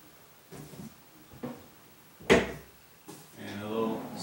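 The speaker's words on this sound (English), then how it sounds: "And a little sliding drawer." A small sliding desk drawer on a new desk, with a few soft bumps and slides, then a sharper knock as it opens or shuts. A quiet indoor room, with a voice speaking briefly near the end.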